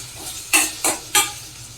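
Green chili sautéing in a hot pan, three quick loud scraping stirs with brief sizzle bursts over a quiet background, no talk.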